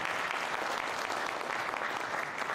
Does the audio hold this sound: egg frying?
no